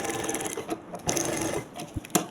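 A sewing machine stitches a cut-work sleeve in short irregular bursts of close mechanical whirring and clicking, with small knocks between runs.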